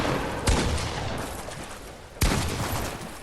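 Gunfire in the Fortnite video game, a rapid sustained fusillade of shots with two sharp louder bursts standing out, dense and loud with no talking.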